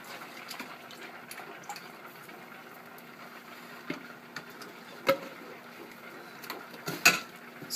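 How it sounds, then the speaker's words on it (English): A pint of cream is poured into a flour roux for mac and cheese, making a soft, steady liquid rush with a few faint clinks, quiet and close. "And then I add a pint of cream to go with the roux."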